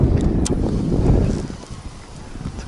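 Cold wind gusts over the microphone outdoors on a catfish fishing outing, a loud rough buffeting that eases slightly after the first second and continues unevenly.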